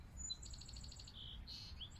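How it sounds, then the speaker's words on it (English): Chickadees and other songbirds call outdoors beside a garden bed: a quick run of about ten bright, evenly spaced high chirps, then a short whistled note and a few scattered thinner calls, faint over low background rumble. "I'm hearing chickadees,"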